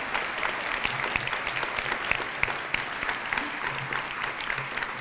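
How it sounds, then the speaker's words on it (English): Audience at a Vermont community leadership summit clapping for four leaders, a dense, steady round of applause that stays even throughout. "So I just want to give another huge warm applause to our four leaders here today"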